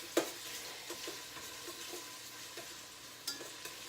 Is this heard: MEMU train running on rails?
no